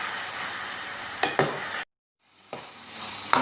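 Chicken stir-frying in a pan with soy sauce and chili sauce, a bright continuous sizzle with a couple of stirring scrapes, then a brief silent gap before the frying hiss returns and builds.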